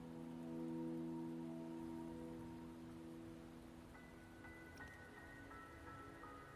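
Steady rainfall in a video game, a dense even wash of drops that runs on without pause, joined partway through by faint tonal game sounds.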